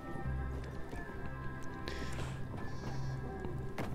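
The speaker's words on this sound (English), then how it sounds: "They've got goats." Goats bleating in the Dying Light 2 game world, a few short bleats over a busy background of footsteps and clatter.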